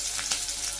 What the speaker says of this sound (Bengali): কাঁচামরিচ ভাজি করে নিই